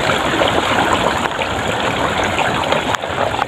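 Seawater from a fishing boat's catch being poured back into the sea, a steady rushing, splashing flow that fills the scene without pause, with no voices over it.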